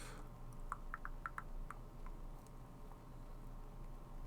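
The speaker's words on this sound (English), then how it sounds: "So when you click on these tabs in the menu here, get a nice little sound effect." Soft, quick menu tab clicks from the Super Dungeon Designer video game, about eight light ticks in an irregular run over a steady low hum, fading after the first couple of seconds.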